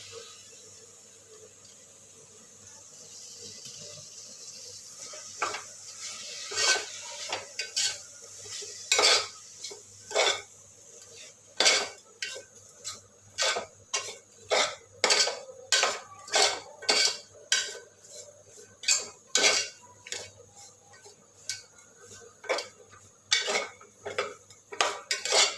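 Chicken curry with fenugreek leaves, coriander, curry leaves and green chillies being stirred in a pan, a spoon scraping and clinking in quick repeated strokes over a soft sizzle, close up with no talk.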